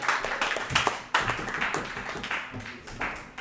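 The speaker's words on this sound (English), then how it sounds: "give him a round of applause" Scattered applause from a comedy club audience greeting a stand-up comedian, uneven claps building in close bursts at moderate level, with no voice over it.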